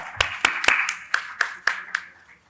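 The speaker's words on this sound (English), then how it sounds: "Please give a huge round of applause." Panel discussion audience clapping to welcome a panelist, a short burst of about eight distinct claps at a steady rhythm, moderately close, fading out at the end.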